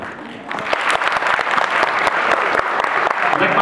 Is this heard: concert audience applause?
yes